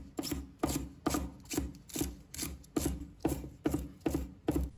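Knife chopping two garlic sprouts (green garlic) into short pieces on a cutting board, about a dozen regular, evenly spaced thuds with a scraping edge, close and clear, no voices.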